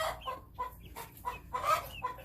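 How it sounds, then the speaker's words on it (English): Green egger pullets cluck in short repeated bursts, about six soft, close calls spaced irregularly over quiet background, with no talk. "These are my green egger pullets that I bought."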